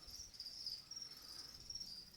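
Crickets kept in boxes as lizard food chirp in a steady, faint, continuous high trill with no break, alone and with no voices over it.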